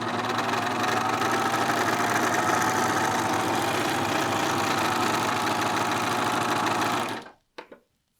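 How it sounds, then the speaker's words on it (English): Sewing machine stitching a dart on a garment, running steadily and loudly for about seven seconds before stopping abruptly, followed by a couple of brief clicks. "Now you see I keep my stitching line even with this notch on my machine."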